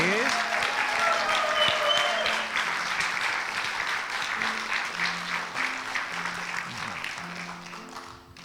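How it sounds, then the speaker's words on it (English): A church congregation at a livestreamed service gives a round of applause, dense clapping that fades gradually over several seconds while soft organ or keyboard notes play underneath. "give her another round of applause, please."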